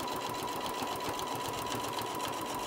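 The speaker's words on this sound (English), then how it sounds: "So I'm going to get that sewed down." Sewing machine stitching down a fabric layer on kitchen hot pads, a continuous close rhythmic mechanical whir with a steady pulse throughout.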